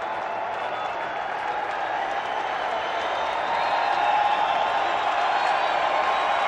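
A baseball stadium crowd cheering and applauding during a Houston Astros at Chicago Cubs game, a broad continuous roar of clapping and voices that swells a little louder partway through.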